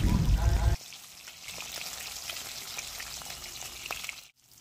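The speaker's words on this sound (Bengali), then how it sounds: "মাছগুলো উল্টো পাল্টে বেশ ভালো করে ভেজে নিতে হবে" Fish sizzle steadily in hot oil in a frying pan for an Assam-style tenga, a continuous close crackle after a brief louder opening, then a sudden drop to quiet at the end.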